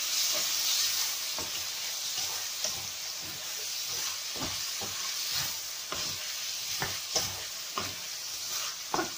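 Aubergine (talong) sautéing in a pan for gisadong talong, a continuous loud sizzle punctuated by repeated scraping stirs of a spoon against the pan, no speech over it.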